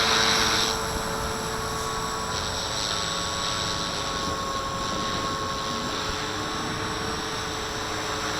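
A V450D01 RC helicopter hovers outdoors in high wind, its rotor and motor holding a steady, loud whine and buzz close by while gusts buffet it and shift the tone slightly.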